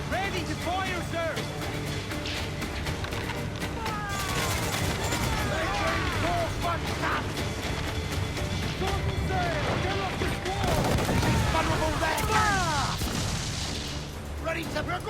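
Ship cannons firing in Assassin's Creed IV Black Flag during a pirate naval battle: rolling volleys of booming shots over steady sea and battle noise, with music and shouting voices throughout.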